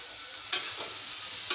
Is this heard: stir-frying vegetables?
yes